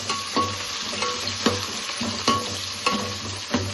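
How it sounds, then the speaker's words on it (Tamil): Two onions frying for mutton biryani, stirred in a pan: continuous close sizzle broken by regular scraping strokes of a spatula roughly every half second, alone without speech. "2 வெங்காயம் போட்டேன்னா வாட்டணும்."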